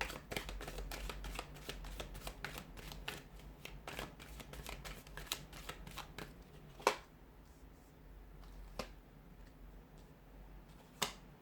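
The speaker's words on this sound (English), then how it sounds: "So we'll give the cards a shuffle" Tarot cards are shuffled by hand in quick, irregular riffling bursts and sharp snaps, close and quiet, with a few louder slaps.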